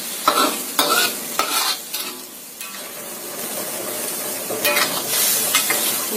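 Carrots stirred in a pan for a simple vegetable stir-fry with a little water added, giving rhythmic scraping strokes over a soft, steady sizzle, with no talking.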